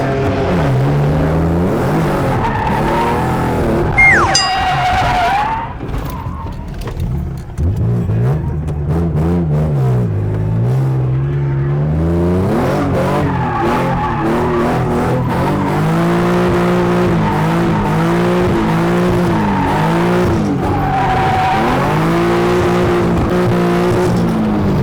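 A BMW E36 drift car is driven hard around a track, its engine revving up and down continuously with tire squeal as it slides, loud and close from inside the car.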